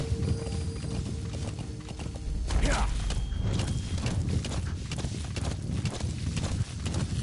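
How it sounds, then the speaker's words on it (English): Hooves of zebras galloping in Metal Gear Solid V, a steady fast clip-clop patter at moderate distance, mixed with game ambience and a brief whinny-like call. "Zebras."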